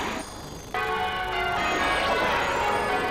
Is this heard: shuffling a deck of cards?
no